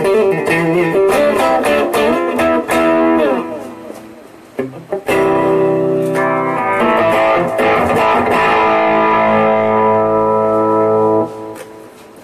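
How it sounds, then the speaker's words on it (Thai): Electric guitar played with heavy delay, notes and chords ringing and echoing into each other over about twelve seconds, loud and close. "นี่ผมใช้ดีเลย์เยอะมากๆนะฮะตอนนี้ทดสอบดู"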